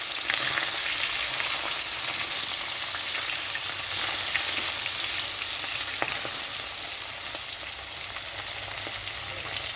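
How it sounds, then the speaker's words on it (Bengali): Parshe fish coated in salt and turmeric fries in hot oil, a steady close, loud sizzle with crackling pops running throughout, alone without talk. "আর এখানে পার্শে মাছটা নুন হলুদ মেখে ভাজতে দিয়ে দিচ্ছি, ভাজার জন্য দিয়ে দিচ্ছি।"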